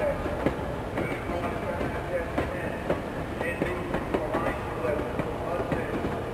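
Cartoon train rolling along steadily with a repeating clickety-clack of wheels on rails, close and fairly loud, with a voice talking over it.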